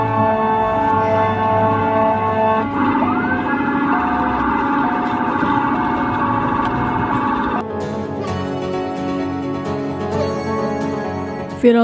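An ambulance from the DPD PKS in Bogor city runs its siren loudly in city traffic as it tries to get through. The siren holds a continuous wailing tone over engine rumble, then switches abruptly to a different pattern partway through.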